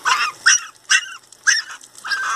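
A Pinscher puppy yelps and whimpers in a run of short, close, high-pitched cries during its first bath, about five bursts with brief gaps, and no talk over them.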